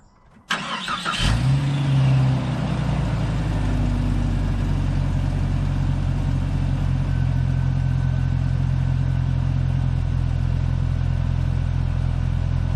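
A 1998 Jeep Cherokee engine cranks briefly and catches, then settles into a steady, loud, close idle that continues without talk.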